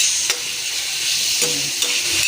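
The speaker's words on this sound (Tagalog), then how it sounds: "ginigisa ko na siya sa bawang at sibuyas" Garlic and onion sautéing for Filipino cabbage with chicken soup, a loud bright sizzle with a few sharp knocks of the spoon against the pan.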